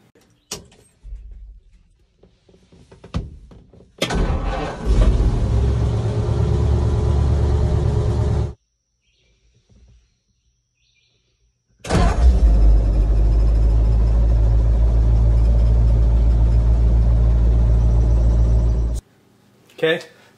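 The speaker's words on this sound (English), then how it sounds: "Here's an example of a 6 volt starting up compared to a 12 volt starting up." A classic car cranks and fires up on a 6 volt system, then the same vehicle starts on a 12 volt conversion, each run a loud sustained engine roar of several seconds separated by a quiet pause.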